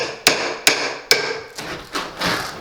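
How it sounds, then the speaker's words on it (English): A claw hammer strikes a crowbar to pry skirting board off a wall, giving six sharp, close metallic blows at a steady rhythm, the last three duller and more muffled. "The best way is to get a crowbar and an hammer, whichever type of hammer you want."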